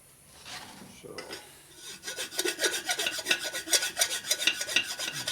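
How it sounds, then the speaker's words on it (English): A deliberately dull hand file rasps across the gasket surface of a Harley twin cam engine case, starting quiet then building into loud, rhythmic back-and-forth strokes close by. "cross the file a couple more times. Again, level it out slightly. Purposely using a pretty dull file"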